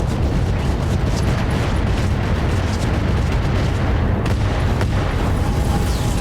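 Dense, continuous roar of battlemech weapons unloading a full volley in the BattleTech Roguetech game, booming explosions and blasts layered loudly throughout with no clear gaps.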